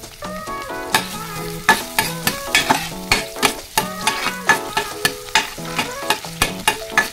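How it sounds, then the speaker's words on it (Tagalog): Garlic sizzles in hot oil in a pan while being stirred, with frequent sharp scraping and clinking hits over a steady crackle. "maglagay na tayo ng oil. Hulog na natin guys ang ating bawang."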